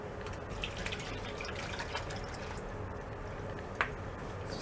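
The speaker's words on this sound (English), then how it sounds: "I'm going to go pour that through the funnel, let it run through the first time, and just go from the bucket" Liquid poured through a funnel into a bucket, a steady trickling, splashing flow with small irregular drips and one brief sharp splash, close and moderately loud.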